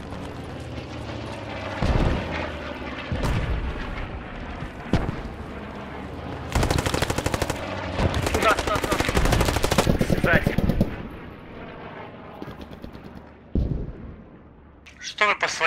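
Loud, dense bursts of rapid automatic gunfire and explosions in the game Post Scriptum during a tournament match, with voices talking over the chaotic shooting.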